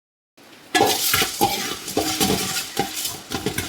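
Urad dal and spices dry-roasting in an uruli for Palakkad-style idli powder, stirred with a spatula that scrapes and rattles against the pan in uneven bursts, close and fairly loud.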